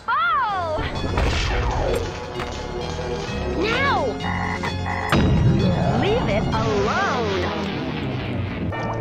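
Frog croaks from a Pinball Arcade video game table, several rising and falling electronic croaks repeating over loud, steady table noise, clatter and thumps.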